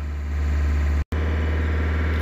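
A Ford Mondeo engine with a low fuel pressure fault holds at raised revs in a steady, loud drone, cut by one very brief dropout partway through.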